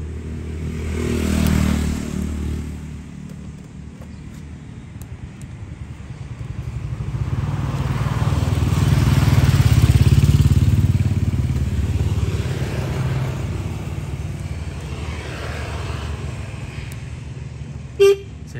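A used motorcycle at a Cu Chi motorbike dealer idles with a low engine rumble that swells and fades, revving up around the middle, with a short sharp click or toot near the end and no talk.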